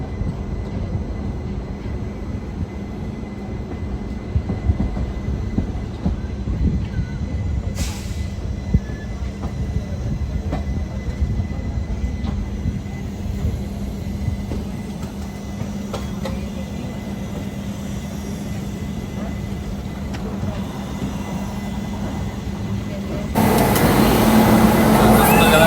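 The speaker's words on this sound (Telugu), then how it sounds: "ఇప్పుడే జబల్పూర్ రైల్వే స్టేషన్ ప్లాట్ఫామ్ నుండి అయితే మన ట్రైన్ అయితే మూవ్ అయిపోయింది" A passenger train pulling out of Jabalpur railway station, heard from inside a coach as a steady rumble of wheels on rails with a low hum and occasional clanks, growing louder and brighter near the end.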